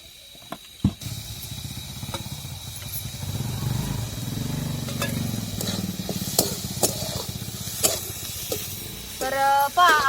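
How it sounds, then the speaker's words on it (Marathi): Chopped onion sautéing in a pan for a dry cauliflower bhaji, a steady close sizzle and hiss running throughout with occasional clicks and scrapes, and brief voices near the end. "तोपर्यंत आपल्याला आहे ना कांदा परतून घ्यायचा आहे चांगला"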